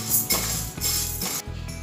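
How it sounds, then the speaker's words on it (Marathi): Dry sago pearls (sabudana) roasting in a kadhai over medium heat give off brief metallic clinks and rattles as they are stirred, close and with no voices. "त्यात आता 1 कप साबुदाणे आपल्याला घालून भाजून घ्यायचे आहेत।"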